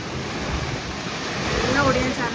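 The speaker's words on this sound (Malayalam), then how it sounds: "ഭയങ്കരം കാറ്റാണ്" Strong gusty wind during a rainstorm, a loud continuous roar filling the whole stretch, rising slightly toward the end, with rushing air buffeting the surroundings.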